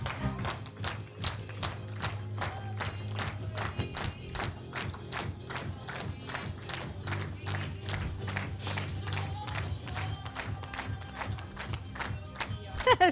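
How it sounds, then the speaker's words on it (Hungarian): An audience at an award ceremony for Open Academy students claps steadily for about thirteen seconds as someone is called up. The many hands make a dense, even patter, with a low hum running underneath. "Tapsoljuk meg."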